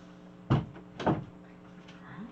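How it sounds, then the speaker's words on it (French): A door is closed indoors, heard as two distinct thuds about half a second apart followed by quiet room tone, with no talking. "oups, j'ai oublié de fermer ma porte"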